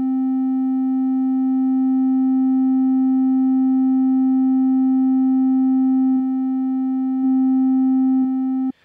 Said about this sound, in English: Now as I crank up the resonance,